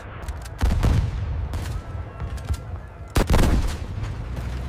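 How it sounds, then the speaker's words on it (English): German machine gun fire on the flat desert ground of the North Africa front: two loud, close, rapid bursts of shots, separated by a quieter stretch with scattered distant reports. "The German gun finds its rhythm, spitting fire across the flat ground"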